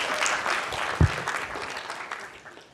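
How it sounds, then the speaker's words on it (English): A short burst of audience clapping at a gathering with a live speaker, moderately loud and fading slightly toward the end, with one sharper clap standing out. "Round of applause"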